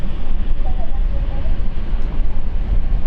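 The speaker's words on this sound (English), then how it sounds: "There we go, you can hear the engines." Embraer E2 jet engines on a Zurich-bound airliner at London City Airport spool up as a steady, broad roaring rumble, blurred by wind buffeting on the microphone, with no break throughout.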